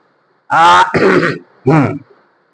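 A person clears their throat forcefully to hawk up phlegm, two harsh rasping bursts close to the microphone, with a short pause between them.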